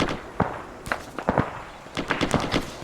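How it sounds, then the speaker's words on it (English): Scattered distant gunfire in the military shooter ArmA 3: a dozen or so sharp cracks arriving irregularly from far off, some single and some in quick pairs, with no talk over them. "Hearing shots southeast."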